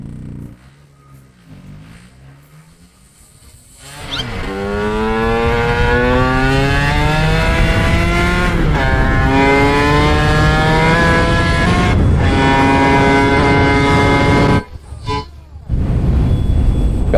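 A modified Vespa 50 Special scooter with 58 hp pulls away from a standstill, the engine rising into a loud, rasping scream that climbs in pitch, dips briefly at a gear change, then howls again close up.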